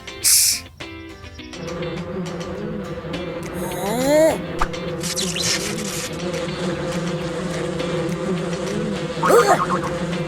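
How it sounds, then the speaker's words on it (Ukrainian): Cartoonish buzzing of bees with rising, wobbly tones, mixed with playful sound effects and a background tune. "Бджоли, бджоли!"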